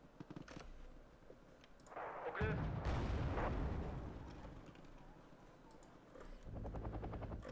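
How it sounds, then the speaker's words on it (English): Helicopter in the real-time strategy game Wargame: Red Dragon, heard as a rumbling rotor drone amid heavy artillery-like booms and gunfire that swell and fade across a moderately loud battle soundscape. "Yep, it's another helo."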